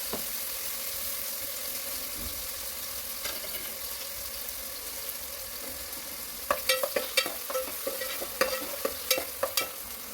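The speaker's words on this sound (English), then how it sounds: "Add 1 finely chopped large onion and sauté until it's soft and translucent." Finely chopped onion sautéing in hot oil in a pot hisses steadily at a low level, then a spoon starts stirring and scraping in a rapid run of close, sharp clinks over the last few seconds.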